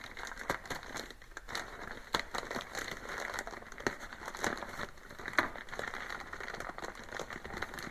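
Soft, close crinkling and crackling of plastic packaging, continuous and irregular, with sharper rustles scattered throughout.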